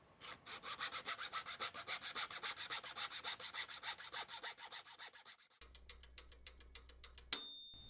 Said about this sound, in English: I also got this tiny hacksaw